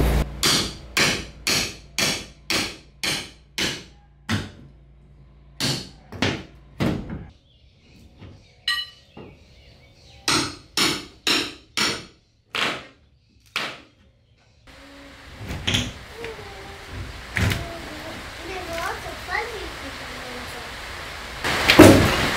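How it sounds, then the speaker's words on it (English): Loud, close hammer blows striking metal in quick bursts of several strikes, separated by pauses, then a few final hits over faint background noise. "Might need the other hammer to push it out."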